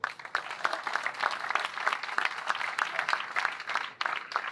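Audience applause at the inauguration of a ceramics exhibition in Castellamonte, a steady dense crowd clapping that continues without a break for several seconds, fairly close and loud.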